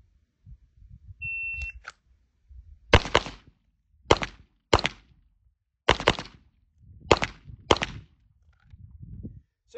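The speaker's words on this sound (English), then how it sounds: "So I'm going to shoot the same order again so you'll see it." Pistol shots in a shooting drill at targets: sharp, loud, close cracks fired in quick pairs and short strings, with brief pauses between groups and a faint electronic beep at the start.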